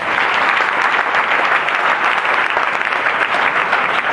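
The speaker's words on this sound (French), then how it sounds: "Ça mérite une acclamation pour cela." A church congregation breaks into dense, steady applause at a revival-style service, loud and continuous throughout with no voices standing out.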